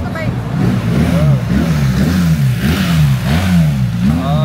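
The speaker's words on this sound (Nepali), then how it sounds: "अरे पुलिसको बाइक" A police motorbike passes on an Istanbul street near Ortakoy Mosque. Its engine hums loud and close with rising and falling revs over about four seconds, while voices talk over it.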